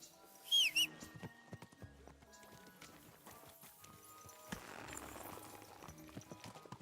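Horse hooves clip-clop along a path in Kingdom Come: Deliverance II, a steady run of light thuds with a brief whinny near the start, all fairly quiet beneath faint ambient game sound.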